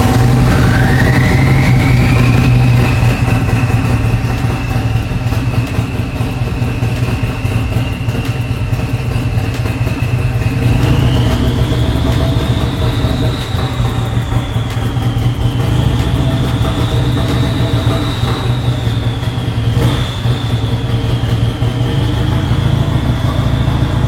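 A Harley-Davidson Road Glide motorcycle fitted with a turbo idles loudly and steadily, a low rumbling engine joined by a rising turbo whine that climbs and holds, with a slight rev partway through.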